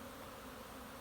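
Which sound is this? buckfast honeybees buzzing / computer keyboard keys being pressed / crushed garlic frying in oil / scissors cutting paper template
buckfast honeybees buzzing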